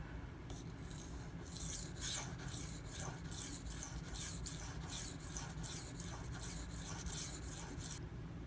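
A knife blade is drawn across a Nano Hone whetstone in repeated rhythmic strokes, roughly one per half second, a close, soft rasping scrape alone without talk.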